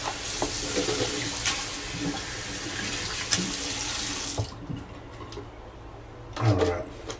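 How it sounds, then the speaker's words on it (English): Water from a tap runs over a shaving soap puck of Old Hickory soap as it is rinsed out. A steady close splash lasts several seconds, then cuts off, leaving a few small knocks and a light splash. "Just rinsing out my puck here."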